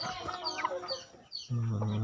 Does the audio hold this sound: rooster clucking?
yes